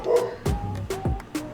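A dog barks up close in three or four sharp, separate yips and woofs spaced across a second and a half, loud against a quiet indoor background.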